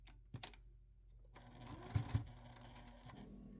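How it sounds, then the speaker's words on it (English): A sewing machine stitches binding onto a quilt, a faint short run of mechanical clatter and a couple of clicks heard close up, with no talking. "and then continue sewing."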